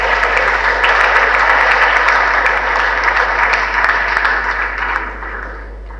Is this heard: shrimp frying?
no